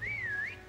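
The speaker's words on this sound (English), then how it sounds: "Wait for the whistle!" A single clear whistle blast in Call of Duty: WWII, a steady tone wavering slightly in pitch, loud and isolated for under a second.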